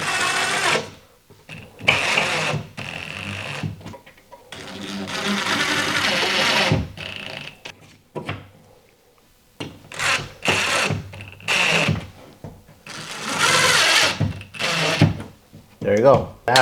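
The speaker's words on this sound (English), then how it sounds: "Just gonna screw it right on the wall where it's at." A drywall patch kit is screwed onto a wall with a power screwdriver, giving several short whirring bursts of driving screws, separated by pauses and speech.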